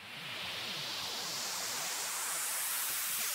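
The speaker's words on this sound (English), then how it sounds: "Just a bit of good old white noise." White noise in a music remix swells up as a broad, steady hiss. It grows slightly louder over a few seconds and plays alone.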